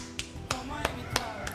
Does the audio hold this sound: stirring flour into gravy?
no